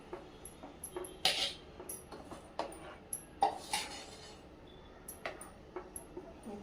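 Raw mango mint paste with rock sugar and lemon being stirred into a drink makes a run of light, irregular clinks and taps of a utensil against a vessel, close and fairly quiet, with no one speaking.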